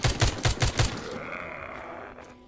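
Fireworks launching in the video game The Walking Zombie 2: five quick, evenly spaced bursts in a row, then a lingering rumble that slowly fades away.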